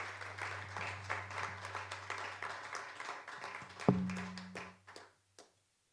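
A congregation applauds in a church service, a steady wash of many hands clapping for several seconds under a low sustained tone, then tapering off into a few scattered claps.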